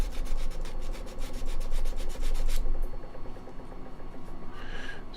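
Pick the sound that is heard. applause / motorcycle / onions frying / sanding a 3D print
sanding a 3D print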